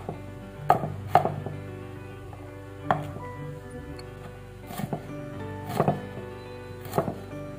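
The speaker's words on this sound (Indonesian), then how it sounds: "Kita iris-iris." A knife slices shallots, garlic, tomato and chili on a cutting board in a home kitchen, sharp irregular taps of the blade striking the board, some in quick pairs, with quiet gaps between.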